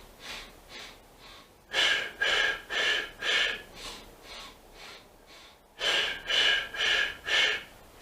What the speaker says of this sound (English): you're breathing in and you're allowing your belly to expand